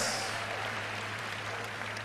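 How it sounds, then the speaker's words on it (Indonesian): Audience applause at a live public Q&A event with Anies, a steady dense clapping wash from a large crowd held at an even level for about two seconds, with no voices standing out. "Tepuk tangan untuk segmen yang kedua"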